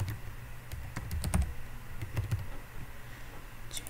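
Someone types a password on a computer keyboard while setting up a GitLab admin account: a quick cluster of close, sharp key clicks comes in short bursts, then thins out to sparse taps, with no talking.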